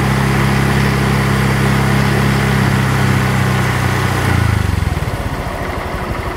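A Honda Vario scooter engine revs at a steady, loud, buzzing pitch while its radiator fan spins, then drops off near the end into a slower, pulsing idle.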